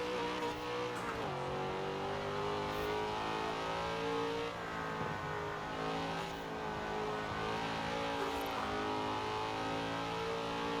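A vintage American muscle car engine revs and strains in Forza Horizon 4 as the tires spin, a steady loud drone with climbing pitch and faint tire squeal.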